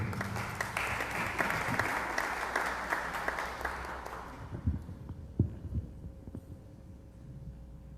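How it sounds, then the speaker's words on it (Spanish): An audience at a legal lecture gives a welcoming round of clapping that is dense and steady for several seconds, then thins to scattered, closer individual claps and room noise as it dies away. "Lo recibimos con fuertes aplausos, por favor."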